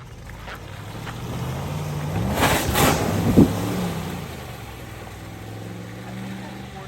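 A vehicle works through an Alabama mud hole on a trail ride, its engine droning and rising in pitch as it churns through, with a splashing burst midway; people talk nearby over the engine.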